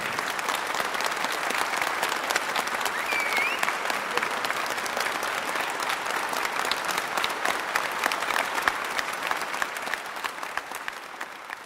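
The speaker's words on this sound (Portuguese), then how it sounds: "vamos receber com alegria e uma salva de palmas o casal Oscar e Patrícia" Sustained applause from a crowd of guests welcomes a couple at a golden wedding anniversary celebration, steady dense clapping lasting throughout without pause.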